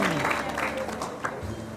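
Audience applause at a Diksha Mahotsav ceremony in Goregaon: a dense, steady clatter of many hands clapping that fills the whole stretch, with a voice speaking over it.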